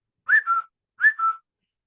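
A voice whistles an imitation of a cuckoo clock's call: two clear two-note whistles, each a higher note sliding to a lower one, evenly spaced and alone in silence.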